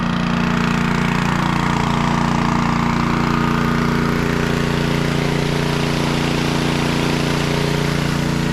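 An engine-driven water pump, resealed and pumping down a pond, runs at a steady, loud, droning idle with a constant low hum and mechanical rattle, close by and without talking.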